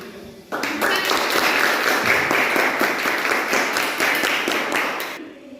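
A classroom group gets applause after presenting its discussion results: steady, dense clapping from many hands, loud and sustained for about five seconds before it stops.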